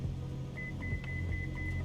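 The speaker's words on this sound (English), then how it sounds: "I heard a loud beeping noise." Loud, repeated electronic beeping in a Cessna 152 flight simulator, with short, evenly pitched tones pulsing in quick succession over a constant low engine rumble.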